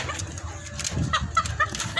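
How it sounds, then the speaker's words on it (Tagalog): Several short chicken clucks come in quick succession, moderately loud against a noisy outdoor background. "ano bang klaseng manok to?"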